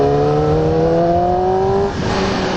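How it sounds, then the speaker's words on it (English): A Yamaha R6 motorcycle on the move gives a loud, high-pitched exhaust wail that climbs steadily as it revs, then drops off sharply near the end, with wind rush underneath. "The other thing I really love about it is the exhaust note."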